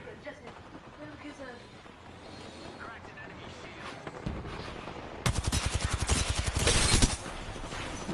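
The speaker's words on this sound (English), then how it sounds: "We're all shooting this man for him and he still dies." Gunfire in a shooter video game, rapid automatic bursts that grow loud toward the end, heard over people talking.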